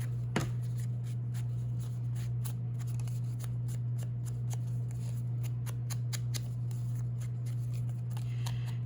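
Scissors snip paper scraps repeatedly in quick, irregular bursts of short crisp cuts over a steady low electrical hum, close by with no talking.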